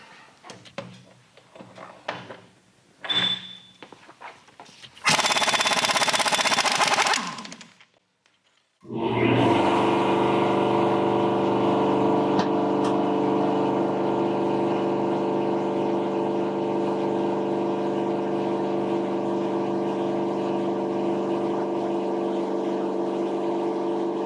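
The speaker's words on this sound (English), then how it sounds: "we'll use the gun in reverse to take it off as we would any other nut" An impact gun runs in reverse to remove the sprocket nut on a Harley Dyna, short rattling bursts followed by a long, loud, sustained mechanical whirring drone close by.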